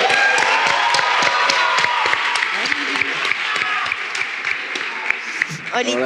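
A studio audience applauds a singer as she arrives as a guest on a Spanish podcast, with steady dense clapping and some cheering throughout, and voices talking over it toward the end.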